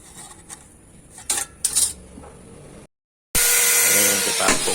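Potato slicing machine cutting potatoes, clattering metallic knocks and scrapes followed by a loud steady whirring motor after a brief silence, no talking.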